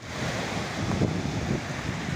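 Sea waves wash onto a beach on a windy, rough-weather morning, a steady close rushing surge with low rumble and wind buffeting, heard alone without speech.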